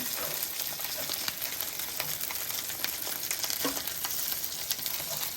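Dough dumplings (fry duff) sizzle steadily in hot oil in a pan, a constant close crackling hiss with no pauses and no one speaking.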